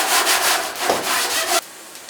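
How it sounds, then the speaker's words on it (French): Close, steady scrubbing of brewing equipment during cleaning, with rapid back-and-forth strokes that stop abruptly, followed by a brief quieter stretch. "C'est frotter, nettoyer."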